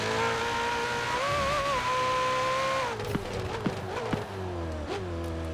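A Ferrari 488 Pista engine drones steadily in Forza Horizon 4 and changes pitch as the car shifts. A few thumps and bits of tire noise come up near the end, with no speech.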